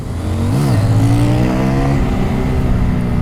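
CFMOTO motorcycle engine at full throttle, a loud close rising rev that climbs sharply, drops with a shift, then pulls steadily upward again.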